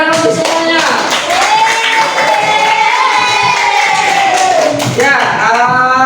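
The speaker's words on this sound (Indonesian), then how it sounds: "Tepuk tangan untuk semuanya." A crowd claps and cheers for everyone after a group laughter exercise, a steady burst of applause mixed with shouting voices that swells and carries on for several seconds.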